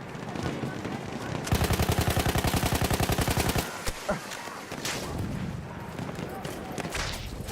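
Rapid automatic gunfire in Battlefield 1 rattles out in one sustained loud burst lasting a couple of seconds, followed by scattered single shots and game noise while a player talks.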